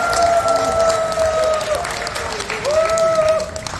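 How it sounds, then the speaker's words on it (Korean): A large crowd at a product launch event in Manila applauds and cheers loudly, dense clapping filling the space with a few long whistles and shouts rising above it. "이렇게 열렬히 환호를 해주셔서 너무나 감사드립니다"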